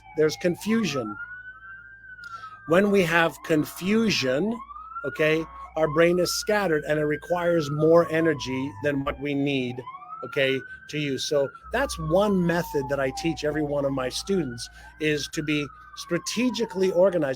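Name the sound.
sirens passing outside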